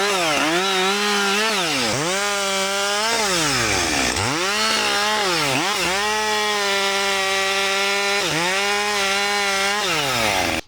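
Husqvarna 564 XP chainsaw cutting timber, loud and close, the engine revving up and bogging down in repeated swells as the chain bites into the wood, running continuously with no voices.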